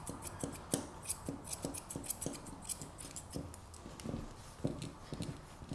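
Grooming scissors trim the hair around a cockapoo's foot, snipping in quick, irregular clicks close by with no talking.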